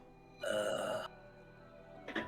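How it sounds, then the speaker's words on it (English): A single short burp, close and fairly loud, rises out of quiet room tone, followed moments later by a brief faint noise. "Burp."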